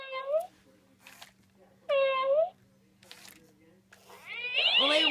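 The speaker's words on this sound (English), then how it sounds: "animatronic cat yelling." Animatronic toy cat letting out loud, wailing electronic meows in repeated bursts, separated by short pauses and quieter clicks, close and clear with a faint steady hum underneath.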